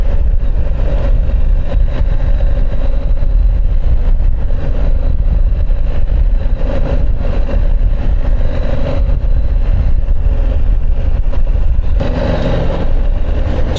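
KTM 790 Adventure parallel-twin motorcycle engine while riding, a steady loud drone with wind rush throughout and a brief rise in revs near the end.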